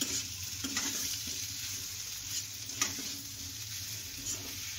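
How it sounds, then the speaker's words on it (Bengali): Pointed gourd and potato for a prawn curry are stirred in a hot pan, with a quiet, steady sizzle and occasional soft scrapes of the spatula throughout. "এবার ভালো করে নাড়াচাড়া করে নেবে।"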